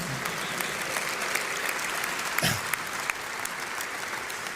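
A crowd claps at a press event introducing a new men's basketball head coach, with dense, continuous applause filling the room at an even level for the whole stretch and no talk over it.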